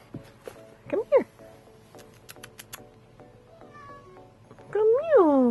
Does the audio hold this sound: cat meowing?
yes